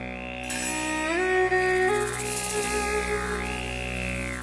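Synthesized shop music from the game Beyond Good and Evil plays continuously with sustained tones and sliding melodic notes, loud and steady, with no voices.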